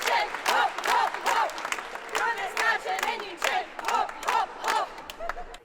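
A small cheering section whoops and cheers at the finish of a round at the World Jigsaw Puzzle Championships, with loud rhythmic bursts of shouting and clapping that repeat throughout.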